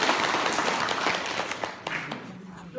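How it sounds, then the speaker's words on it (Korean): An audience claps in a dense burst of applause at a hosted event. The applause is fairly loud at first, then thins out and tapers toward the end. "박수로 모셔주십시오."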